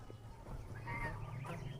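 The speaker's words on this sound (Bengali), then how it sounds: "আর এই যেখানে রাজহাঁস" A goose gives a few faint, distant nasal honks over a low background rumble, its calls brief and slightly wavering.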